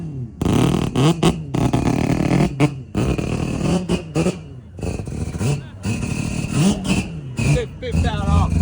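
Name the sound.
modified car engine revving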